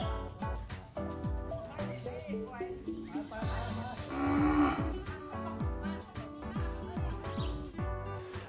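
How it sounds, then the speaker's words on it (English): Cows moo repeatedly as they pass through an Isaan village, the lowing calls close and overlapping, heard under a voice talking. "the charm of cows going through the village kind of adds to it as well"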